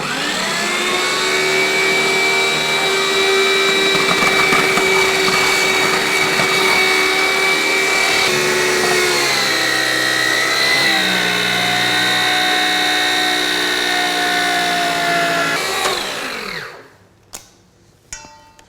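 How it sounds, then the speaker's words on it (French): A loud, whining juice centrifuge juicing grapes spins up and whirs steadily, its motor pitch shifting, then winds down, followed by a few clattering knocks. "on centrifuge les raisins nature sans rien pour y récupérer le jus. Ça va faire du bruit."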